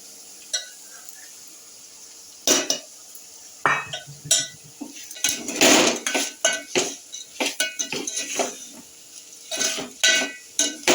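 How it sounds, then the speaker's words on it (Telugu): Bitter gourd pieces frying in a pan, with a light sizzle broken by sharp, irregular metallic clinks and scrapes of a spatula against the pan, close and loud. "ముక్కలు అయితే వేగుతున్నాయి కదండి, ఇది ఇంకా ఎర్రగా వేగాలి"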